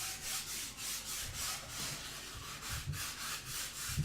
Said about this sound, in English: We're going to take our sanding block.